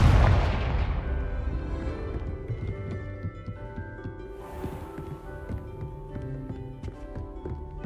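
A Confringo fire-blast spell in Hogwarts Legacy opens with a heavy booming blast that fades into a rumbling tail, followed by scattered sharp knocks and clatters of debris over a lingering low ambience.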